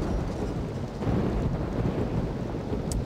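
A steady roar of rain mixes with a low, rumbling thunder that rolls on continuously in RollerCoaster Tycoon 3, loud and dense with no voices over it.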